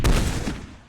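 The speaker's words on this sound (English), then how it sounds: "that gunfire going back and forth" Space combat in the strategy game Master of Orion gives a brief rushing burst of laser or gunfire, loud at first and fading within a second.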